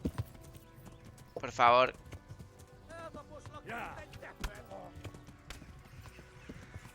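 Rhythmic clip-clop of horse hooves with a brief whinny in Kingdom Come: Deliverance, mixed with game sounds and a short spoken phrase.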